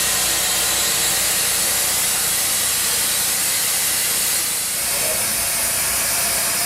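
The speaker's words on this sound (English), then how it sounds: "Hook them up to the steamer. We use live steam, and it'll go on for 15 minutes." Live steam from a commercial steamer cooking crabs pours out as a loud, continuous broadband hiss that holds steady throughout, easing only slightly near the end, with no talking.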